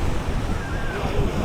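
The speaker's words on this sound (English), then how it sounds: "You can hear the waves crashing." Ocean surf washes steadily onto a beach in Antalya, Turkey, a continuous broad rush of breaking waves with wind noise and no distinct individual crashes.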